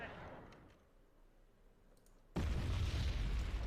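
Wargame Red Dragon battle audio: faint, muffled ticks and rumble give way to a sudden loud, deep blast of recoilless rifle fire and explosions that keeps roaring to the end.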